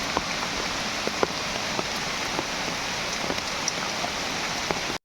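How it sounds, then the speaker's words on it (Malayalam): Heavy rain pours down inside a forest, a steady close hiss of drops striking leaves and ground with scattered sharper taps of larger drops, continuous and unbroken, with no voices. "മഴ ശക്തമായി കൂടിയിട്ടുണ്ട്"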